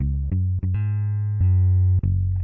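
A loud, sustained low synth bass plays a few held notes with sharp attacks, rich buzzy harmonics over a deep fundamental.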